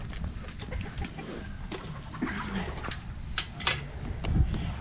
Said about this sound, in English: We are going to work with the chickens today.